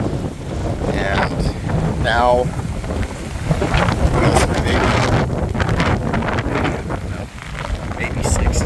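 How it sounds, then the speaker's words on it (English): Gusty wind buffeting a microphone outdoors in Clermont, Florida, the morning after Hurricane Ian, a steady rushing roar with rising gusts while someone talks over it. "But it's died down a lot. The wind was a lot worse a few hours ago."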